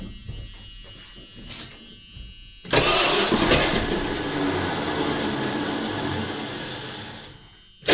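Dodge Diplomat engine cranking and catching after sitting unused for 18 years: quiet clicks and rattles, then a sudden loud start into a rough, steady idle close by, with no talk.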